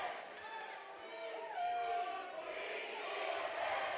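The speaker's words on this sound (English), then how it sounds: "Almost a cheer-off going on here." Rival student spirit sections trade cheers at a varsity high school volleyball match between St. Genevieve and Lutheran South, a distant, reverberant gym roar of chanting and yelling that swells slightly midway, with nearby talk mixed in.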